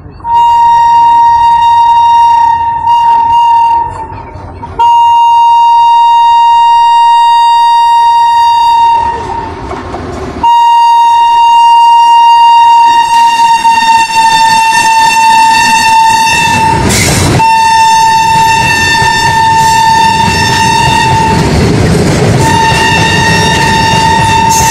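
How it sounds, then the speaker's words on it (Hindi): A goods train rolls past on the railway during an Indian train journey, a steady horn-like tone and loud rumbling wheels holding almost continuously, with a harsh clattering swell of wagons near the end. "अभी गुड्स ट्रेन हमारी ट्रेन को हाय हेलो नमस्ते बोलते हुए अपनी मंजिल की ओर जा रही है।"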